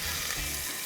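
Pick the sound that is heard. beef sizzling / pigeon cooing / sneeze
beef sizzling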